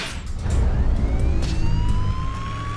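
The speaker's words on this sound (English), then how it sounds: "Can you not silence your siren?" The siren of a robot police car in the animated Transformers: Robots in Disguise wails in rising, sweeping tones over a low engine rumble, steady and fairly loud, with no talk over it.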